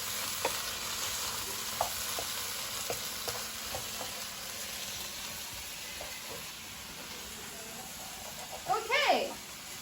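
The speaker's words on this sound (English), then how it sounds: "we can just stir everything and just give it a nice stir" Chicken fried rice is stirred in a hot pan with a constant crackling sizzle and a few light spatula taps, and a short voice rises briefly near the end.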